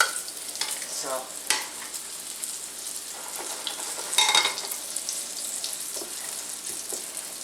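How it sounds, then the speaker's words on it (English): Redfish pieces frying in a pan in small batches, a continuous soft sizzle with crackling pops and occasional sharper spatters, fairly quiet and close. "as the fish browns in the pan, I will be turning it with the tongs"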